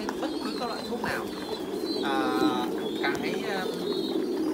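Titan meat pigeons at a farm coo in soft, repeated low calls under a steady hum of birds, with a few brighter chirps scattered through.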